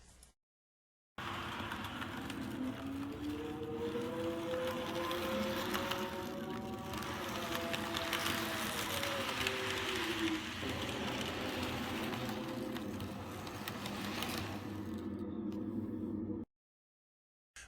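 Model train running on a lit Halloween layout with structures and a tunnel, a steady mechanical whir and rumble holding close throughout, with a rising and falling tonal whine in the middle stretch and no talk.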